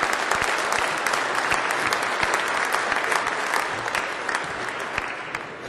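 Sustained applause from a large crowd fills a Department of Sanitation swearing-in ceremony. The clapping is dense and steady, fading slightly toward the end.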